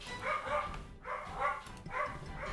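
Barking in a tank warfare video game, heard as three pairs of loud, close woofs in a steady rhythm, most likely a person's voice imitating a dog.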